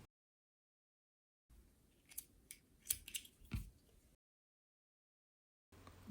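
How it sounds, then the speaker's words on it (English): Fabric scissors snip through the high neck of a knit turtleneck during a sewing alteration, giving a few close, crisp cuts with brief blade clicks, separated by stretches of silence. "Now is the time to cut off the high neck"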